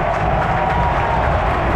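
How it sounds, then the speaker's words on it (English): A packed stadium crowd at the Champions League final between Liverpool and Real Madrid claps and roars as the players come out to warm up, a dense, loud, continuous wash of noise. "People are clapping"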